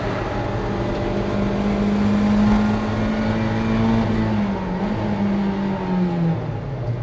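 A Mazda MX-5 roadster in a Roadster Cup race accelerates hard along the track, its engine droning loud and close without a break as the revs climb steadily, heard from on board.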